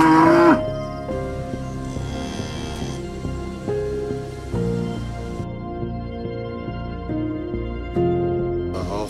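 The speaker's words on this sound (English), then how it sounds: "We also started a dairy project. We have 5 cows now" Dairy cows on a farm give a loud moo at the start, and further lowing may sit within a dense, layered sound bed that carries on underneath.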